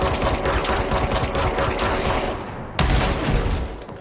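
Gunfire in the video game Control: rapid, steady automatic fire rattling loudly for a few seconds, a short pause, then another sharp burst resumes.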